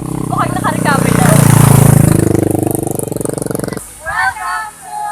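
A motorcycle engine runs after being repaired from a breakdown, a loud rough idle and rev that swells and then cuts off, with people talking over it and afterward.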